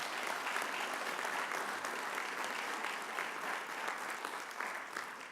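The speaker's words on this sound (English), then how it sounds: "Let's give them a round of applause." Dense, sustained audience applause at a city State of the City event, a thick even roar of many hands clapping that holds steady at moderate loudness throughout.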